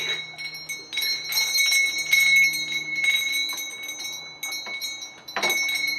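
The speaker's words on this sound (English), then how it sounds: "This one's a little noisy. It's got bells on it" Small bells on a Christmas door wreath jingle repeatedly in bright, shimmering bursts, shaken on and off close by with brief pauses between.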